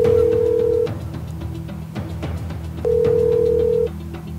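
An unanswered telephone rings through a handset in two long, steady electronic ring tones separated by a roughly two-second gap, heard close and clear against a faint background hum.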